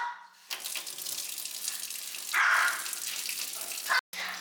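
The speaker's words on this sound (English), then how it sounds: "So I'll fill it with water." Water runs from a tap into a clean kitchen sink as it fills, a steady hiss-like rush with a louder surge partway through, before it cuts off abruptly near the end.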